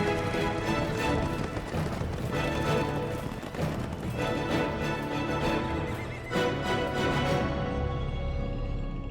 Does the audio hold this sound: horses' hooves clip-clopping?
yes